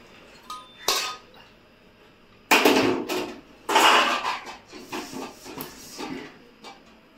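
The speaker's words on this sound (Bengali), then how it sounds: "আমি এই ঝুড়ির মধ্যে ঢেলে দেবো" Boiled karamcha fruit tipped from a pot into a basket, with a few clattering, clinking bursts of metal and tumbling fruit separated by quiet gaps, fairly close and with no talking.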